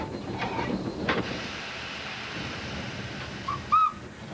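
A light railway train between Tralee and Blennerville, Ireland, rattles along steadily in the background, with a few clacks early on and a short, high whistle near the end.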